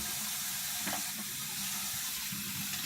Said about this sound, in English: So I'm washing dishes right now.